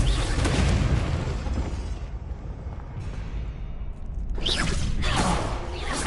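A Confringo blasting spell goes off in Hogwarts Legacy, a dense rumbling boom with crackling spread that fades and then swells again with sharp bursts near the end.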